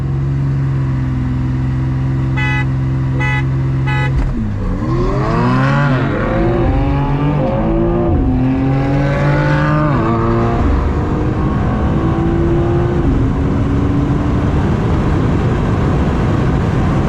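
A 2019 Mercedes C43 AMG on a 0-60 and quarter-mile test: three short horn honks, then the stock engine launches hard, roaring through rising gear sweeps, loud and close, and pulling steadily into the distance.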